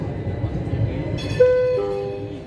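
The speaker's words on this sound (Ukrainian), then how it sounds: "З трамвайчику їду в центр." A rumbling tram rolls along in Florence, then a high sustained tone rings out over the running noise and slowly fades.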